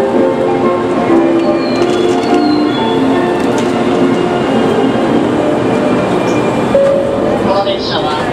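A steady rumbling hum of a Kyushu Shinkansen Sakura train idling at Kumamoto Station platform, with faint station noise and occasional tonal chimes in the background.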